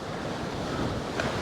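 Stormy sea waves roar under gale wind along the Paphos seafront, a dense continuous rumble with wind buffeting the microphone and a louder surge near the end.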